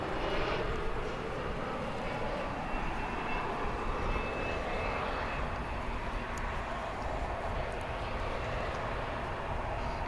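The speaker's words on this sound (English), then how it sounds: "here comes the flight from Ontario" A passenger jet arriving at Dallas Fort Worth International Airport on a flight from Ontario, a broad, steady engine roar heard from the ground that holds for the whole stretch.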